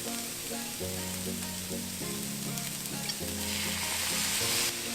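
Vegan keto fried rice with soy sauce sizzling in a pan, a continuous close hiss of frying with clanking stirring underneath.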